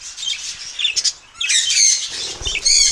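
Budgerigars chirp and twitter in bursts with brief wing flutters as they hop and fly out of an open cage, close by and fairly loud.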